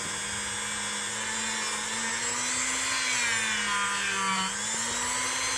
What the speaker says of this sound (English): Now I go at a little lower speed when I'm polishing.